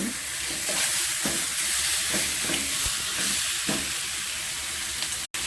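Chicken wings cooking with garlic and fermented black beans hiss steadily in a hot pan, with soft periodic stirring strokes over the continuous sizzle, close up, no one speaking, ending in a brief cut.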